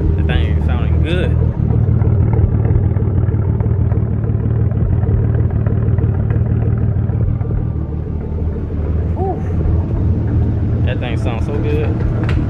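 A Nissan 300ZX twin turbo engine idles with a heavy, rowdy rumble, holding steady and loud throughout with slight swells as the motor is revved, while voices speak faintly in the background.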